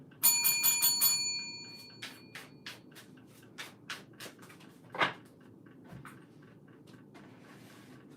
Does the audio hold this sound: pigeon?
no